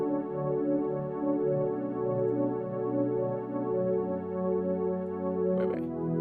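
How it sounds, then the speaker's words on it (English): A soft Juno synth pad preset for pop music holds warm, sustained chords that swell gently and evenly, then stop with a brief click near the end. "It's the Juno, the soft pad."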